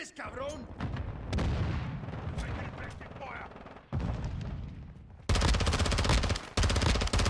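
Bursts of VEL 46 (HK MP7) submachine gun fire in Call of Duty Modern Warfare 2, rapid automatic rattles with gaps and a loud sustained burst near the end, mixed with game effects and a talking voice.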